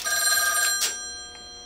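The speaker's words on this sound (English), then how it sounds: "Now you can hear the phone is ringing." A telephone bell rings on a phone connected to an OKI AC125A crossbar PBX: a loud, shimmering ring cut off after under a second, then fading away against faint mechanical background noise.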